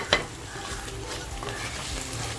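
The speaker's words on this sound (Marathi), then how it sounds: "आपल्याला मसाला इतका खमंग परतवायचा आहे की तेल बाजूला झालं पाहिजे" Spice masala sautéing in oil for a spicy village-style mutton curry, a soft continuous sizzle with a sharp spoon scrape on the pan at the start and faint stirring noises after.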